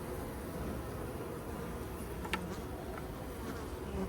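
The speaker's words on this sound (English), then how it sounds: "So you got bees, bees." A steady, dense buzz of many honey bees close by at a hive, humming continuously without pause.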